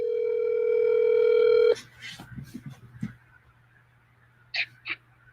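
A steady telephone dial tone sounds loud and alone for under two seconds while a call is being placed, then cuts off into faint clicks and low noise with a couple of short sounds near the end.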